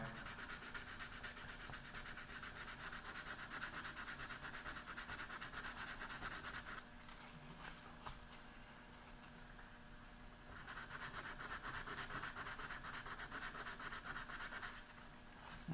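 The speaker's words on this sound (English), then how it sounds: "it's okay to sand into that other line because you're going to have to deepen it out anyway" Sandpaper rubs a scratch on a wooden gun stock with a steady, faint close scraping that pauses briefly midway before resuming.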